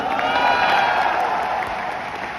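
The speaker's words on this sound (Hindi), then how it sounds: "जोरदार तालियां" Loud, steady applause from a large crowd fills the whole stretch, dense and continuous clapping with no pauses.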